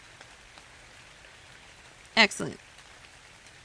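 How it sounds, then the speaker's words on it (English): Steady hiss of rain falling in the video game ARK: Survival Ascended fills the background evenly throughout, with someone briefly speaking over it near the middle. "it's raining all the time"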